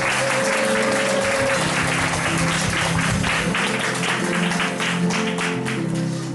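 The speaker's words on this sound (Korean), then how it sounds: "다시 한번 그분들에게 세례를 축하한다고 박수 보내도록 하겠습니다." A church congregation applauds steadily at a Sunday service celebrating a baptism, the dense clapping sustained and fairly loud from start to finish with no voices over it.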